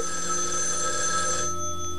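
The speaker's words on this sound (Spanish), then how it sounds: "Ha sonado el teléfono." A telephone bell rings in a clear, sustained burst of bright metallic trilling that cuts off near the end, heard alone at close range.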